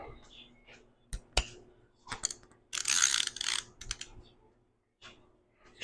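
A large nut on a Mazda M5R1 transmission is tightened with a makeshift socket, giving sharp ratcheting clicks and bursts of mechanical rattling, close and irregular, between short quiet gaps.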